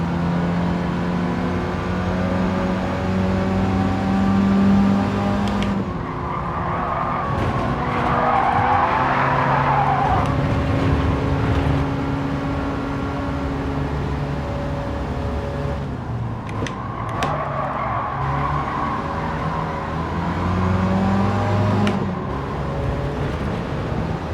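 Race cars in the Gran Turismo 7 driving game, with engines roaring steadily as they race and tires skidding and squealing through corners; loud and continuous throughout, with no talking.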